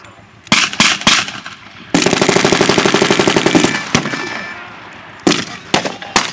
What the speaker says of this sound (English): Sounds like they've set up a heavy machine gun, probably an MG-43 on the edge of town.